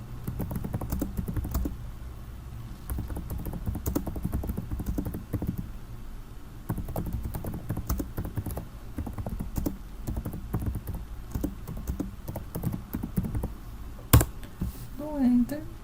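Typing on a computer keyboard, quick irregular clicks in short bursts close by, with a single sharp key press near the end.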